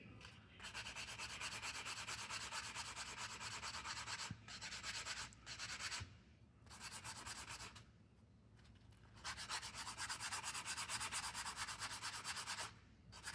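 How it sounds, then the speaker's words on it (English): A buffing block rubs back and forth over wire-wrapped earrings to clean and shine the wire, producing close, soft scratchy sanding strokes in long runs with short pauses between them. "You're going to take your buffing block and you're going to buff and just clean up and shine up your wire beautifully."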